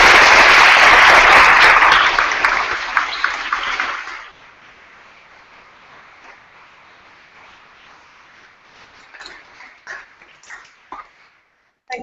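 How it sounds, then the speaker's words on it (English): Warm applause from a conference audience for a session's presenters fills the first four seconds, then fades to scattered claps and faint room sounds. "I just would invite you to a round of applause for Terry, for Linda, for Aidan and Margaret"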